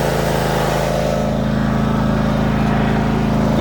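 Ariens Icon-X 52-inch zero-turn riding mower engine revving up, a loud, steady close-up drone with a rapid pulsing firing rhythm throughout, no talking.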